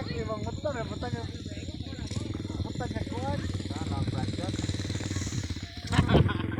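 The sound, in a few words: motorcycle engine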